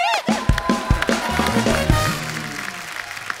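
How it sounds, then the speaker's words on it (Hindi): A TV comedy-show audience applauds to welcome singer guests, with scattered sharp claps that swell briefly under music and then thin out and fade. "वेलकम, जोरदार तालियां।"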